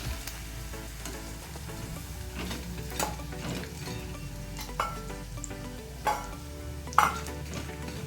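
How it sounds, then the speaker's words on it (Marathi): Peanuts fry in a pan while being stirred, a soft continuous sizzle with scattered scraping clicks and a few sharper knocks of the utensil against the pan. "असा थोडासा कलर चेंज झाला की मग शेंगदाणे घालून घ्यायचे।"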